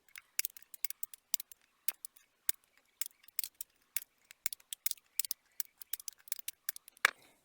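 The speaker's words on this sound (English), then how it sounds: "take and cut off all your positive leads" Wire cutters snip the positive leads of soldered LEDs on an LED matrix cube build, a rapid run of sharp, close, dry clicks spaced irregularly, several per second, with no talking.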